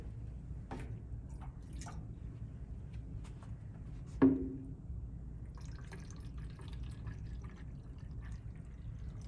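Clean, cold tap water runs from a faucet into the tank of a Protexus handheld electrostatic sprayer, a soft steady trickle with a few drips and one brief louder splash, heard close and alone with no talk.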